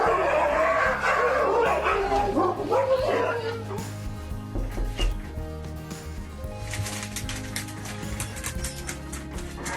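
A pack of 26 sled dogs barks, yips and whimpers excitedly, loud and close at first and then easing to scattered yelps over a busy, shifting background.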